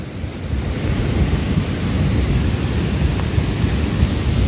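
Rushing floodwater roars steadily at a washed-out, landslide-hit road in Manali, a loud, continuous broadband rush that holds constant from start to finish with no voices.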